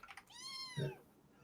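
A single drawn-out kitten meow, high and clear, rising then falling, close by with faint background noise.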